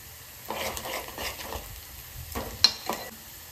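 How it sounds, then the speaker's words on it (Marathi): Finely chopped garlic sizzles and fries in a pan over softened onions, a steady crackling hiss with intermittent scraping stirs and one sharp clink, no voices. "आता टाकूयात थोडा लसूण आपण खूप बारीक केल्यामुळे तो लगेच शिजतो"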